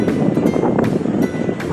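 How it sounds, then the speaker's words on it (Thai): Steady wind buffets the microphone at a mountain viewpoint in a coastal national park, a loud continuous rush with gusting swells and no talk. "โอ้ลมเย็นดีครับ"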